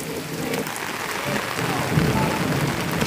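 Heavy rain falling on a street in Itapura, São Paulo, with runoff rushing: a loud, broad, continuous roar of downpour, thickening slightly partway through, with no voices.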